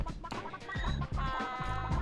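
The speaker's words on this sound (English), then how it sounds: "there's so many chickens up here" Chickens cluck repeatedly in the PS1 video game Gex 3: Deep Cover Gecko, set against a steady, busy bed of game music and effects at moderate loudness.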